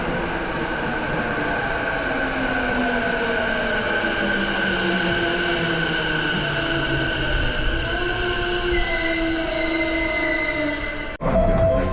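A train pulls into a station with rising and falling tonal whines from its motors and wheels, a steady rumbling approach lasting several seconds before a sudden clunk near the end.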